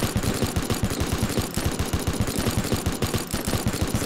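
Rapid, steady machine-gun style firing from a time gun in the video game Teardown, loud and evenly spaced shots rattling continuously for several seconds with no talk.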